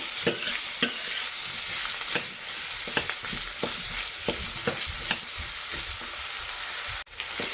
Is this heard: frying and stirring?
yes